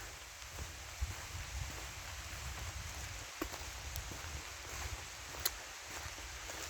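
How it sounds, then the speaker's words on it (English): Light rain begins to fall outdoors on a wooded riverside path near a narrow rocky gorge, a soft steady patter with a few scattered louder drops, no voices. "It's just started to rain."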